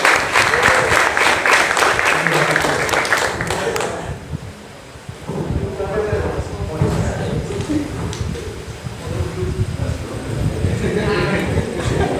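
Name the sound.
audience applause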